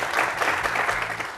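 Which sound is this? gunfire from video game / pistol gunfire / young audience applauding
young audience applauding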